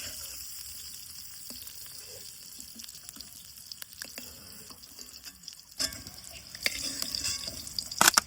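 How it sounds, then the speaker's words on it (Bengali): Eggs coated with salt and turmeric shallow-frying in oil for a ridge gourd and egg dish, giving a faint, steady sizzle that swells into louder crackling spatters near the end. "ডিমাগুলা হালকা লাল করে ভাজি নিয়ে এবার ওঠাই নিব"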